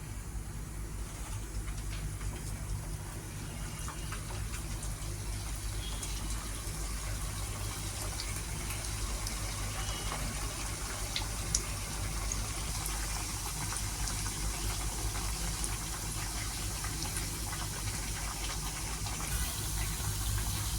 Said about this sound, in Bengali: এবার আমি আস্তে আস্তে পকোড়াগুলো তেলে ছেড়ে দেবো।